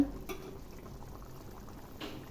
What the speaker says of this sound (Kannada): ಇವಾಗ ಇದು ಚೆನ್ನಾಗಿ ಕುದೀತಾ ಇದೆ